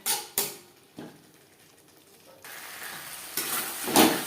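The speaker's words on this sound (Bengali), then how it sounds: "মশলার সাথে আলু বেশ ভালো করে মিক্সড করে দেবো মিডিয়াম ফ্লেমে আরও তিন চার মিনিট নাড়াচাড়া করে দেবো" Potatoes tossed with spices in a pan over a medium flame, a few spoon scrapes and knocks followed by a steady sizzle that grows a little louder, heard close with nobody speaking.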